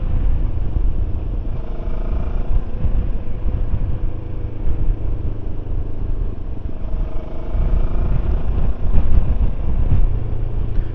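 Rieju Xplora 707 motorcycle ridden on a road in Spain, a steady loud engine drone with rumbling exhaust and wind rush, rising slightly in intensity toward the end.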